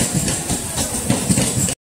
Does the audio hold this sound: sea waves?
no